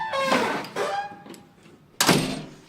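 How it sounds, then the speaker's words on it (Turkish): A household door that won't shut properly is pushed closed, giving a soft knock early on and then a sharp, close bang near the end, with quiet room noise between. "Kapıyı örtelim."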